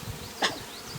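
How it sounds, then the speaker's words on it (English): A bee swarm overhead gives a steady, low insect buzz, soft but continuous, with no voices. "All of a sudden you hear the buzzing on top of your head."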